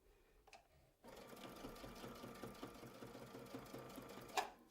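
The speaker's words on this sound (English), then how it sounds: "Finishing off that 4-inch circle exactly the same way, and then I'm going to go and stitch the other size circles" A sewing machine stitches a 4-inch circle around a template, starting after a short pause with a faint tap, then a steady close mechanical whir with rapid regular needle clatter, ending on a brief sharper clunk.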